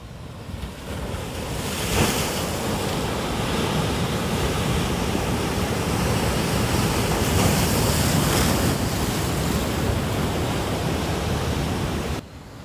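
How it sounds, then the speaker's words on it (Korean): Continuous roaring surf with waves washing and crashing against rocks by Hyuhyuam temple on Korea's east coast, mixed with wind rumble across the microphone, steady and loud throughout. "바위 주위로 들이치는 파도도 멋있는 곳입니다."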